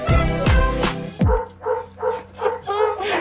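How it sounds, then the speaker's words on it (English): Several dogs barking close by, three sharp loud barks followed by a quicker run of softer, higher yips in steady rhythm. "These dogs are getting super irate"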